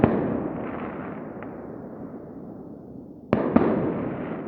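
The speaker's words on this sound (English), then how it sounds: "There's some fireworks for you." Christmas fireworks boom in the distance, a rumbling roll followed by two sharp nearer bangs, with a sustained low echoing wash between bursts and no talking.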